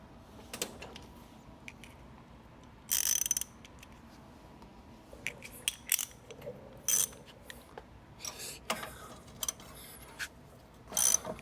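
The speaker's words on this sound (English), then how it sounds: "with a ratchet." A hand ratchet loosens bolts on a 36-year-old Foxbody Mustang, giving quiet, intermittent bursts of clicking separated by pauses and faint handling noise.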